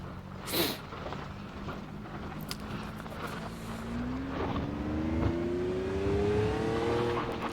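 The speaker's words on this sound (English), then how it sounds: "Gravel and dirt clattering around in the wheel arches of a multi-million." A multi-million-dollar race car in a driving simulator rumbles along with a rising engine note while gravel and dirt clatter in the wheel arches, a steady gritty rattle under the motor with a sharp knock near the start.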